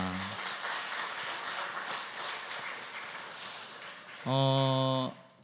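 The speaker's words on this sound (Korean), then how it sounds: "수고했다고 박수 한번 합시다" Church congregation at a Sunday morning service applauds the teachers in a soft, distant wash of clapping that holds for about four seconds, then gives way to a brief, steady electronic tone before fading.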